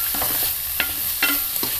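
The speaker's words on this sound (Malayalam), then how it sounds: "നന്നായിട്ടൊന്ന് മിക്സ് ചെയ്ത് കൊടുക്കണം." Beans masala curry is stirred in a pan over a steady sizzle, with a few quick scraping strokes of the spoon, close and moderately loud in a short burst.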